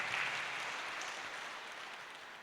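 A church congregation applauds together at a Kikuyu-language service, a broad steady wash of clapping that starts strongest and eases off slightly, with no voices heard over it.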